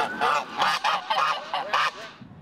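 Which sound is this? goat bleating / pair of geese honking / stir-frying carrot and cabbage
pair of geese honking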